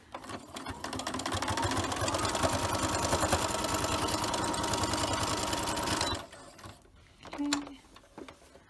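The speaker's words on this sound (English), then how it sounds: "now let's line up our stitches as best we can" A sewing machine runs steadily for about six seconds, stitching a reversible fabric face mask with a nose wire and elastic, then stops; a few light handling clicks follow in the quiet.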